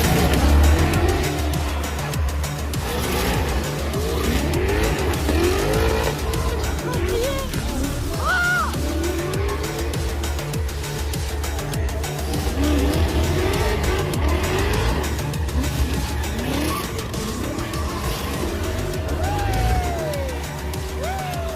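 Drift cars at a Japanese car festival rev hard and squeal their tyres in repeated sliding bursts, loud and fairly close, over a constant crowd murmur with voices chattering throughout.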